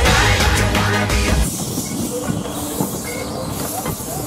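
A steam train engine puffing off, loud rumbling chuffs and hiss up close at first, then dropping to a quieter rolling clatter as it pulls away.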